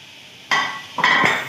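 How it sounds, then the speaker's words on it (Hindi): Chicken pieces, already fried, stir-roasted in masala in a pan for a Sindhi-style chicken masala, with two bursts of spoon scraping and sizzling after a near-silent start. "अब हम इसमें फ्राई किया हुआ ये चिकन शामिल करेंगे और इसको खूब भूनेंगे"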